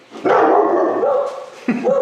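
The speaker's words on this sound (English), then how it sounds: "Dog barks." A dog barks loudly nearby in a knife-making shop during a mosaic Damascus forging session, two sustained, harsh barks separated by a short pause, filling the brief clip on their own.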